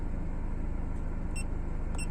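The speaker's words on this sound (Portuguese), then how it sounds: "Ele tá fazendo o bip." Two short, high electronic beeps from a Ford New Fiesta's AR70 multimedia unit sound about half a second apart over a low, constant engine rumble inside the car.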